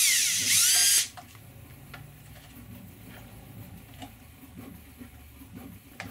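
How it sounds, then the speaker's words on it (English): A power drill bores a hole in a plastic IKEA Samla box, one loud, high whine lasting about a second near the start, then it stops and quiet handling follows. "I'll swing this out of the way and drill this hole."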